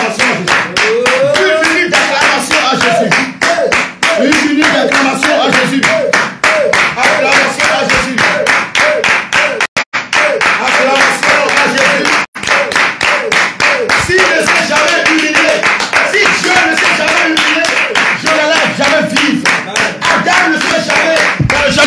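A church congregation claps in steady, rhythmic unison for the whole stretch, loud and close, with voices singing or calling out underneath.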